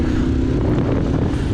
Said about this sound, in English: you can now hear the engine, not only the the exhaust sound